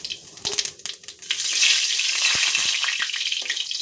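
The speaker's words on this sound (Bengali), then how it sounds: "বন্ধুরা এখন জিরে দিয়ে দিচ্ছি তেলের উপরে" Whole cumin seeds hitting hot oil in a pan for a spicy fish curry, giving a bright, steady crackling sizzle with a few sharp pops and clicks, close and fairly loud, no talking.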